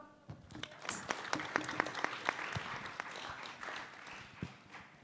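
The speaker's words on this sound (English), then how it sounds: "Please give a round of applause." An audience applauds at the grand opening of an international seminar at Universitas Indonesia, a dense burst of many hands clapping at fairly low level, with distinct individual claps standing out before it tapers off.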